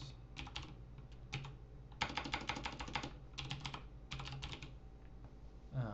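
Quick bursts of key clicks from typing on a computer keyboard, close and fairly quiet, with short pauses between runs of keystrokes.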